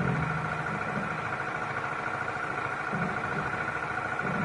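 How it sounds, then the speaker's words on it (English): Pump at a wildlife watering hole runs with a steady mechanical drone and faint rattle, constant and moderately quiet throughout, with no voices. "We've got the noise of the pump, of course."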